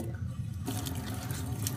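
Tap water runs steadily for bathing a pet hedgehog, a constant close splashing stream that swells louder partway through, with no talking.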